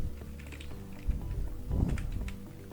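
Typing on a computer keyboard, a quiet run of light key taps and clicks with a denser burst midway, close by with no talking.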